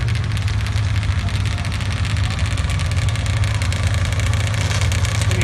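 Drag racing motorcycle engine idling at the line before a Motorcycle Gambler semifinal, a loud, steady, low rumbling idle with a buzzy edge, constant and close throughout.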